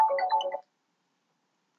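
A telephone ringtone gives a brief melodic burst of just over half a second, fairly clear, then cuts off into silence.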